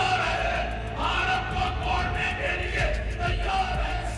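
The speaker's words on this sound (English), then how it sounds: "In Islamabad, Pakistan's capital, we come to a rally condemning India's presence in Kashmir." A crowd at a political rally in Islamabad, Pakistan, condemning India's presence in Kashmir, yells and chants in a continuous roar of many voices, with rising shouts and whoops over a dense, steady din.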